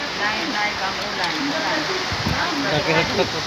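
Steady rain falls with a constant hiss and patter, close and fairly loud, while people talk over it.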